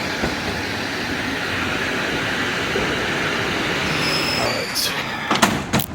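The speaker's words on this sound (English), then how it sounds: "It's a Russian train." A Russian-operated passenger train in Armenia rumbles steadily from inside the carriage, with a continuous rolling roar and a few clunks and rattles near the end.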